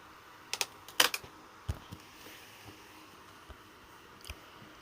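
A few sharp clicks from a computer mouse or keyboard, clustered near the start, then sparse fainter taps in a quiet room with no talking.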